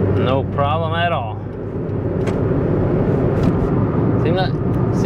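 A 2012 Kia Soul runs after a downshift, a loud low engine rumble heard from inside the car. A person speaks briefly at the start and again near the end.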